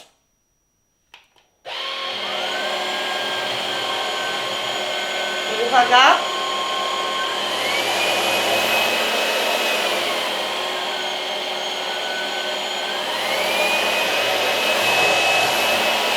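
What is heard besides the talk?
vacuum cleaner running loudly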